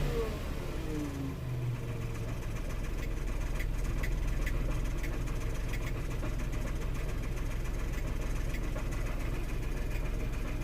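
A Renault Twingo 1.0 engine, being fault-found for an engine light, cranks briefly and settles into a steady, close idle with a constant low rumble and faint ticking throughout.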